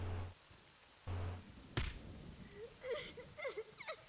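Rain falls steadily on a garden in a video game, a soft hiss of drops heard alongside faint thuds, a sharp crack and some scattered squeaky game effects.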